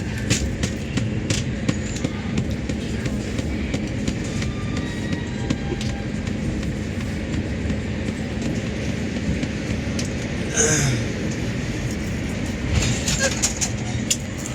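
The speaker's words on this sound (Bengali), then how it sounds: "তো ছেড়ে যাচ্ছি বেঙ্গালুরু এস এম বিটি স্টেশন" Steady low rumble of a Bangalore-to-Kolkata train interior with rail noise as it pulls away from Bengaluru SMVT station, a brief hiss near the middle, no talking.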